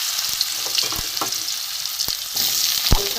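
Potatoes fry in mustard oil with dried chilli, bay leaf and cumin, a bright steady sizzle broken by a few sharp spatula knocks and scrapes against the pan, close up, with no talking.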